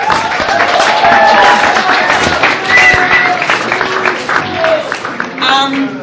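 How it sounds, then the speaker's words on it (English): Audience applause at a lecture event, a moderate wash of clapping mixed with crowd murmur and voices, fairly close and steady across the clip. "So a little applause for Elaine, if it's possible"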